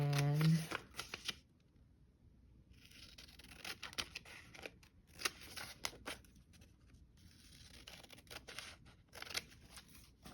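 Scissors snip through a paper pattern piece in crisp, papery cuts, a few close bursts at first and then a steady run of irregular snips, with a voice talking early on.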